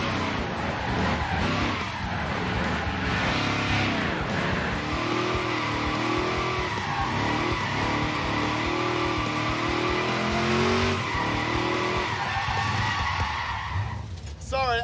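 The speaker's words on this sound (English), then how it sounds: "He learned how to do it, now he's drifting." A car drifts with loud, sustained tire squeal over a droning, revving engine that reportedly had no oil pressure. The screech runs nearly unbroken for about fourteen seconds before cutting off abruptly.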